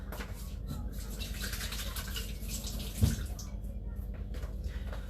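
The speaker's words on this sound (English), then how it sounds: "So now that I'm just going to quickly wash my hands." Tap water runs steadily while hands are washed at a kitchen sink, a constant near splashing rush with one brief louder splash midway.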